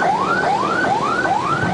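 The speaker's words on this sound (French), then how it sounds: "Toute sirène hurlante, l'ambulancier Anwar tente de se frayer un chemin dans les embouteillages de Karachi." An ambulance siren wails through Karachi traffic, rising in four repeated sweeping whoops at a steady rhythm, loud and close, with no talking over it.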